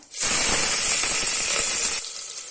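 Onions tipped into hot oil with bay leaf and cloves for a black chickpea curry give a sudden loud, steady sizzle and hiss that holds for about two seconds, then drops to a softer crackle.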